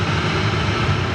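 A Boeing 747 departs Manchester Airport with a loud, continuous roar of jet engines that fills a brief moment, with no talking.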